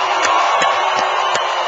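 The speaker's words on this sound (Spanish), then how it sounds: "Ese aplauso, una bulla para Cuba." A large crowd cheers and roars for Fidel Castro in a brief, loud, dense burst of noise with a few sharper claps or shouts breaking through.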